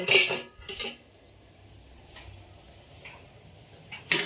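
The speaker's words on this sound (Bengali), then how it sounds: "এই জল থেকে আমি টিফিন কৌটোটা তুলে নেব" A tiffin box lifted from a pot of hot water after steaming egg in banana leaf, with metallic clanks and scrapes at the start, a quiet stretch of light taps, and another clank at the end, close by.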